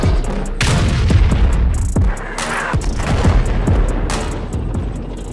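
A cartoon tank cannon fires armor-piercing shells in a rapid barrage of loud, heavy booms, one after another with rumbling blasts between them, close and dense.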